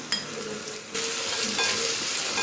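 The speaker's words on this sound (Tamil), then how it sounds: "நல்லா கிண்டி விட்டுக்கலாம்." Frying masala with turmeric, salt and green chilies is stirred in a pan, giving a continuous loud sizzle with scraping strokes from the spoon and no talk.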